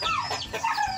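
Chickens cluck and chatter close by in a brief, busy burst of overlapping calls.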